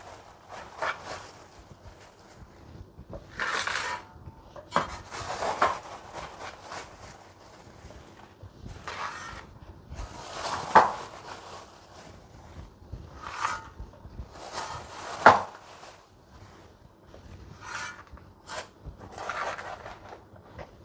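Leather meal is mixed by hand into homemade fertilizer, giving soft, intermittent crunchy scrapes and rustles that come in short bursts at a close distance, with quiet gaps between the bursts.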